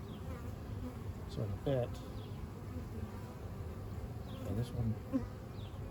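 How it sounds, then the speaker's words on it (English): A swarm of bees buzzing in a hive box, a continuous low hum beneath a person talking nearby. "The bees aren't running around as much. It's just not making as much noise."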